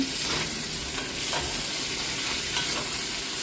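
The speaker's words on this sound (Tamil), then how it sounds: "நல்லா கருவாடு வந்து பொரியணும் இல்லை ஓரளவு சும்மா வதங்கினா போதும் இடைக்கிட மிக்ஸ் பண்ணி மிக்ஸ் பண்ணி விடுங்க" Dried fish for a karuvadu kuzhambu fries in hot oil in a pan, a continuous close sizzle broken by regular scraping strokes as it is stirred.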